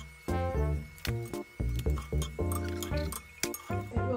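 Tongs lift chunks of rotisserie chicken out of simmered broth, with repeated close clinks against the pot, wet drips and splashes in short bursts, and no talking.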